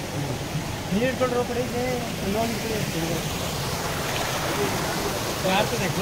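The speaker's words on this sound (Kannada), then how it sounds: "ಆನ್ ದಿ ವೇ ಯಾವುದೋ ಒಂದು ಚಿಕ್ಕ ಜರಿ ಸಿಕ್ಕಿದೆ" A small forest stream on the Netravathi peak trek flows with a continuous close rushing wash, while people's voices murmur over the water.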